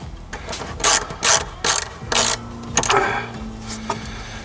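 A ratchet wrench clicks in short bursts while fasteners are tightened during a van's engine-coolant hot-water heater install, with several quick ratcheting runs close up and a faint steady hum underneath.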